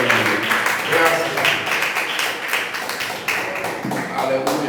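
A church congregation claps rhythmically, with the clapping mixed under continuous speech and singing.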